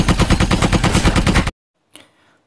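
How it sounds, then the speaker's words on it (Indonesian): Rapid automatic gunfire rattles in a fast, even burst for about a second and a half in a war film battle scene, then cuts out before one faint, distant crack. "Dayan menembaki serdadu Belanda itu dengan brutal sekali."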